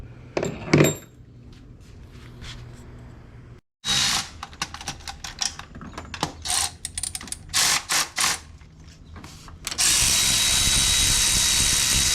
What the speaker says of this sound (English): the rest of the bolts we're just gonna torque them to spec